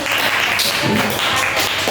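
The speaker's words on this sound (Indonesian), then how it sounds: "Tepuk tangan dulu langsung." Schoolchildren in a sixth-grade classroom clap together, a dense brisk patter of many small hands filling the room, with faint voices mixed in.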